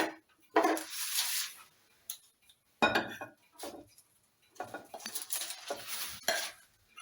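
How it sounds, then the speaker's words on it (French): Spoon scraping and clinking against a bowl while pumpkin biscuit batter is stirred, in bursts of close, fairly loud mixing with short pauses between. "Je mélange."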